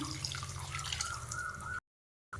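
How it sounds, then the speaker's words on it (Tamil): Water pours into a cooking pan of mushroom curry in a steady, close stream for almost two seconds, stops briefly, then starts flowing again. "இப்போ வந்து தேவையான தண்ணி ஊற்றுறேன்"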